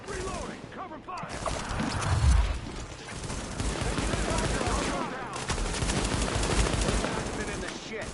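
Sustained gunfire in a Tom Clancy's video game, rapid overlapping automatic bursts and shots, loud and continuous, mixed with shouting voices.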